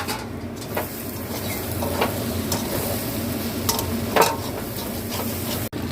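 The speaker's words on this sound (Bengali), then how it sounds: "ঢাকাটা খুলে এবার আমি নেড়ে নেবো," A sizzling pan of fried egg and onion-stalk fritters in masala stirred after the lid comes off, steady frying hiss with intermittent spatula scrapes and clinks against the pan, close and fairly loud.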